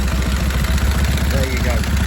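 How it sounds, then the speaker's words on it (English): A 1929 Indian 101 Scout bobber motorcycle with a Mikuni carburettor runs just after being kick-started, its engine idling close by in a rapid, even, loping thump, with a brief voice over it. "I'm just going to give her a kick and see if she'll start for you."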